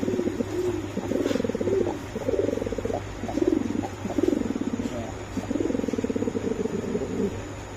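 Pigeons, including fancy breeds such as Spanish pouters and Budapest highfliers, coo close by in a repeated rhythmic throbbing series of low calls over about eight seconds, with a faint steady hum behind.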